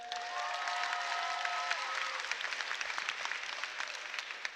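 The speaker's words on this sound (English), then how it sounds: "Give it up, River Heights Cheer." The crowd at the 2017 Cheer & Dance City Championships applauds and cheers for the River Heights Cheer team, with a brief tone at the start and then scattered clapping that slowly tapers off.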